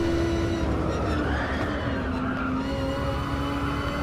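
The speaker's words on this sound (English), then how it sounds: "that time I hit the brakes really late and kept them on through the entire corner" Race car in Gran Turismo Sport braking late and holding the brakes through an entire corner, a steady loud engine drone with a sustained tyre-squeal tone running throughout.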